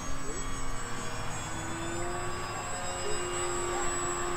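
Electric RC model planes flying over a schoolyard on a calm winter day, a steady whine and drone with a high tonal hum that holds level throughout, moderately near.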